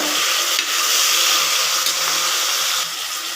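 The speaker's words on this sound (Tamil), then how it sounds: "இப்போ தக்காளி இந்த அளவுக்கு கட் பண்ணி வச்சுருக்கேன். இது நல்லா வதங்கட்டும்." Chopped tomatoes sautéing in a pan for mushroom biryani, a steady close sizzle with occasional stirring scrapes, no talking.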